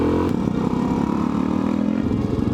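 A motorcycle engine revs loudly and close on a road trip, a rough, throbbing roar held steady with slight pulsing throughout.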